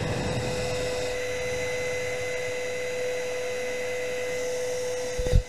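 A vacuum cleaner runs continuously with a steady loud whining drone and a constant tonal hum, ending with a brief clunk.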